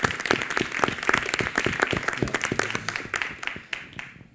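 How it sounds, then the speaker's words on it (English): An audience at a design and geopolitics group discussion gives a round of applause, with dense clapping close by that starts strong and fades out over a few seconds. "I think we really owe Benjamin a round of applause"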